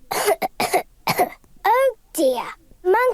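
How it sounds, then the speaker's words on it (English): Coughing from a child in a Peppa Pig cartoon bedroom scene: a few short raspy coughs at the start, then voiced, harmonic child-like vocal sounds, loud and close, with brief gaps between bursts. "Monkey has a bad cough."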